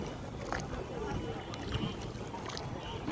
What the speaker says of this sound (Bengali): ভরা নদীতে নৌকা বেড়ানো বেশ একটা অন্যরকম ফিলিংস কাজ করে।